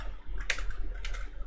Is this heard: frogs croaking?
no